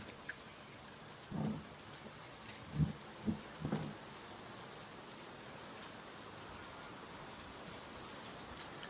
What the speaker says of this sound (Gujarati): હજી તો એવો ને એવો જ વરસાદ આવે